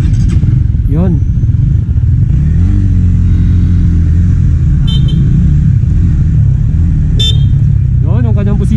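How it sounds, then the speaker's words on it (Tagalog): The horn of a 2024 Honda Winner X 150 motorcycle beeps a few short times over a steady idling engine rumble, with someone talking throughout. "Yun, ang kanyang busina."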